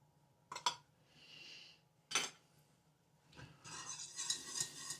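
A spoon stirring béchamel sauce for lasagna in a pot, giving a few distinct clinks against the metal, then a quiet pause, then a busier run of scraping and tapping near the end, all fairly soft.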